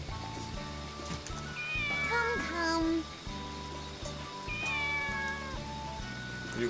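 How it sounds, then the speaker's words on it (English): A cat meows several times in the video game Sakuna: Of Rice and Ruin, rising cries over a steady rhythmic background beat, with a brief spoken word. "Let me pet the cat."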